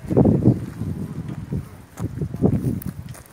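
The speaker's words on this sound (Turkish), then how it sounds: "Çok da rüzgar var burada" Gusty wind rumbles and buffets against the microphone in uneven low bursts during kite flying, loud and close, with no other clear sounds.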